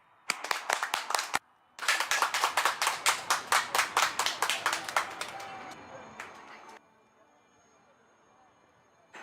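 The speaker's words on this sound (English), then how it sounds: "Big round of applause to you, please." Crowd applause at an Indian Air Force air show on Chennai's Marina Beach, a burst of dense clapping and a pause, then rhythmic group clapping that fades into faint background noise.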